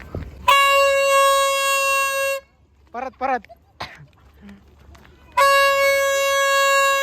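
Two long, loud blasts from toy horns at a fair, each lasting a couple of seconds, with a short burst of talking between them.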